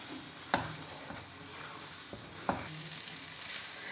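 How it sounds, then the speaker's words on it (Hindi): Milk and egg halwa cooking in ghee in a pan is stirred with a spatula. Soft scrapes and occasional sharp knocks sit over a continuous gentle sizzle, with no voices. "तो अब इसे भी मिक्स करके मज़ीद हलवे को पकाएंगे।"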